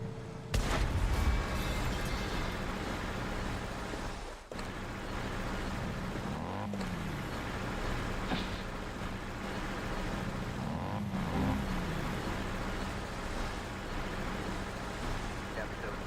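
Armored personnel carrier rumbling through a Cold Front combat video game match, a steady low vehicle drone running throughout amid scattered distant gunfire and artillery thumps, with voices talking over it.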